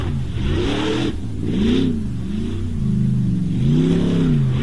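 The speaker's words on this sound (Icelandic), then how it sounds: "Þetta er líka svakaleg vinsla í mótornu hjá honum." Off-road torfæra competition car in Iceland revving hard, its engine rising and falling in repeated strong surges with no break, close and loud throughout.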